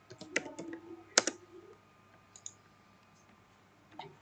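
Computer keyboard typing while entering a resample search in GIS mapping software for a civil engineering task: a quick cluster of key clicks, one sharper tap, then sparse single keystrokes, close and clear against a quiet room.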